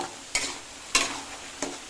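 Soya chunks fry in a pan, a low steady sizzle broken by three sharp scraping stir strokes spaced roughly half a second apart, close by and without speech.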